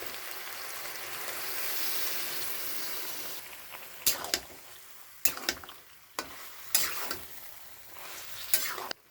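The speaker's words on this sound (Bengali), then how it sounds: "ভালো করে কষিয়ে নিচ্ছি। সবজিটা কষানো হয়ে গেছে।" Vegetables sauté in a pan with a soft continuous sizzle, then a run of sharp scraping stirs and spatula knocks comes in irregular bursts; close but fairly quiet, with no talking.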